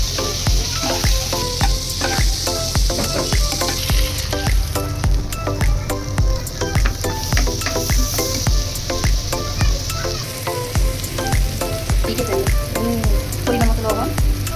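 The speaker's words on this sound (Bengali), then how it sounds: "ফুলকপিগুলো আমি এখন তেলের মধ্যে নাড়তে নাড়তে সেটা সিদ্ধ হয়ে যাবে।" Cauliflower fries in hot oil while being stirred, a dense, loud, steady sizzle broken by frequent scraping and clacking strokes of the stirring utensil throughout.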